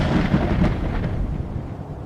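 A thunderstorm sound effect gives a deep, continuous rolling rumble of thunder, loud and steady throughout with no voices.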